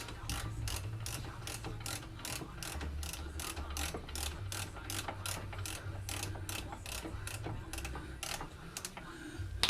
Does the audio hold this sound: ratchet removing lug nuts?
yes